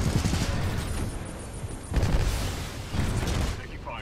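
Gunfire from Titanfall 2 fills the scene with rapid bursts and heavy booming impacts in a couple of loud surges, layered over battle noise and game music.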